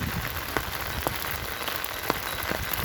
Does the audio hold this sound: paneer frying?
no